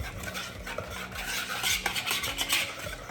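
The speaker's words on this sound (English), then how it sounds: "Now we're gonna stir this mixture until it's nice and smooth." A whisk beats a batter made with lukewarm milk in a bowl, giving quick rhythmic scraping and tapping strokes that are close and fairly loud, with no talk.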